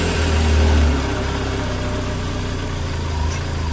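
A Triumph TRK 502 motorcycle engine, just after an oil change, fires with a brief deep surge and then settles into a steady, low, rumbling idle close by. No talking.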